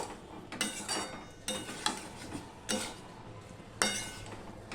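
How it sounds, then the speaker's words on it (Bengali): A spoon works through pumpkin curry in a pan with repeated scraping strokes and occasional clinks against the metal, close and moderately loud over a low sizzle. "এবার আমি এটা ভালো করে মিশিয়ে নিচ্ছি দেখো"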